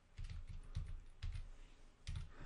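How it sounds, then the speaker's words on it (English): Bursts of computer keyboard typing, entering recipe ingredients into software, clustered keystrokes in short runs with brief pauses between, close and fairly quiet. "as I start typing the name of the next ingredient"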